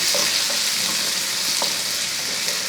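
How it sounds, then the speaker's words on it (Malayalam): Small onions (shallots) sautéing in a pan for a tamarind curry, a loud, continuous hiss of hot oil with occasional light taps from a stirring utensil, heard close and alone. "ആ ഉള്ളിയും കൂടെ ഇതിൻ്റെ കൂട്ടത്തിൽ ഇട്ടു അപ്പോൾ ഇത് എല്ലാം ഒന്ന് ഇളക്കി നമുക്ക് നന്നായിട്ടൊന്ന് വഴറ്റിയെടുക്കണം"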